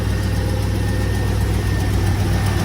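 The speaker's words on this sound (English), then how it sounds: "Engine sounds pretty good on this one as you go around." A municipal auction vehicle's engine runs at a steady, loud, close idle, a continuous low rumble with slight vibration and no change in pace. No voices are heard over it.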